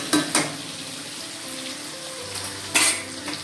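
Fish sizzles steadily in hot oil in a pan, with a couple of sharp clinks and scrapes as the pieces are turned over, close and alone without talk.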